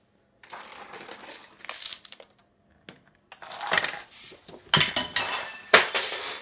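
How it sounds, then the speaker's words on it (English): Rube Goldberg machine setup with a spoon tipping over and cereal falling into a bowl, bursts of clattering, rattling pieces and clinks coming in uneven waves, close and fairly loud, no talking. "roll of tape is going to push over the spoon and the spoon is and after that the cereal is going to fall into the bowl."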